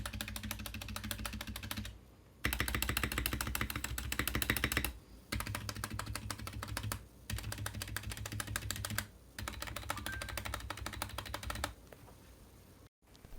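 Typing on a Kemove Snowfox 61 mechanical keyboard, rapid close-up clacking in several bursts of a few seconds each, separated by short pauses, with no talk.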